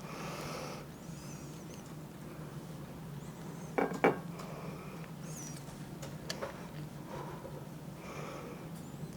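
Cabbage wedges are lifted out of an Instant Pot after cooking with corned beef, giving faint utensil scrapes and a couple of sharp clinks against the metal pot over a quiet kitchen background.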